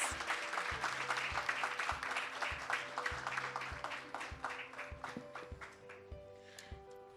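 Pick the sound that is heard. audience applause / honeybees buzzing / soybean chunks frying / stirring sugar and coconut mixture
audience applause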